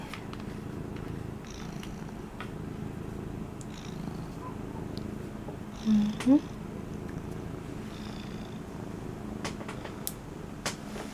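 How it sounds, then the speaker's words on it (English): A pet cat named Amber purrs in a soft, steady low rumble close by while a person murmurs and coaxes it gently, with a couple of brief vocal sounds midway. "Yes, that's my cat."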